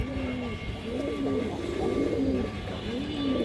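Pakistani pigeons coo in soft, repeated rolling calls close by, with a constant hum of background noise underneath.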